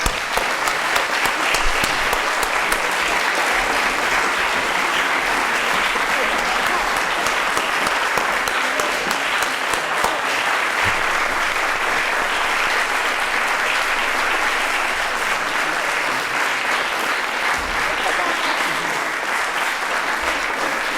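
A concert audience applauds a string quartet, a dense, sustained round of clapping from a large crowd that stays loud and even throughout.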